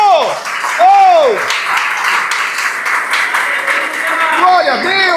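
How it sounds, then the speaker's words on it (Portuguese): Church congregation applauding the Lord during a sermon, a lively wash of clapping under a preacher's excited, sung-out exclamations, with voices rising and falling over it. "Aplauda ao Senhor."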